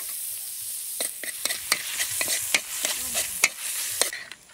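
Garlic sizzles in a hot pan while beef pigar-pigar cooks, a steady frying hiss broken by repeated scraping clicks of a utensil stirring, fairly close and with no talk.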